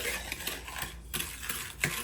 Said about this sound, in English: And I'll whisk that around really good.